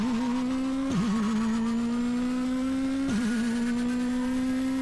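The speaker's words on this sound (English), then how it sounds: "Oh, such a powerful Soviet car." Game engine of a Soviet Moskvitch car in the rally racer Shakedown Rally, a steady loud drone that briefly dips and wobbles twice as gears change, then holds its pitch again.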